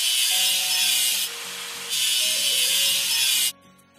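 Rust is being scraped and rubbed off a machine with a tool in steady back-and-forth strokes, loud and close, dropping briefly in the middle before stopping abruptly near the end.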